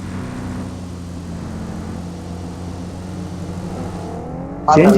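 A vehicle engine driving in the video game BGMI (Battlegrounds Mobile India) gives a loud, steady droning hum that runs throughout, with a sharp burst of louder noise right at the end.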